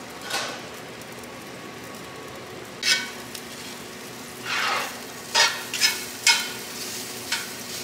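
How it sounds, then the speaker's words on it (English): Broccoli and asparagus on a Wild Fire 4-in-1 grill, soft sizzling under intermittent louder crackling bursts and scraping stirs, fairly close and otherwise quiet. "Got the broccoli sizzling, so I may get the asparagus sizzling."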